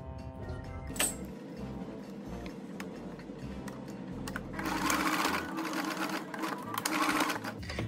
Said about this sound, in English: we will stitch like a very small seam, like 2 centimeters long